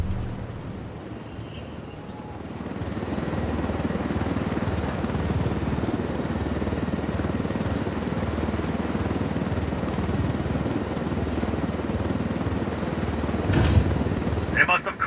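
A helicopter in the video game Ghost Recon Wildlands drones with a steady, rumbling rotor and engine noise that persists throughout, with brief sharper sounds near the end.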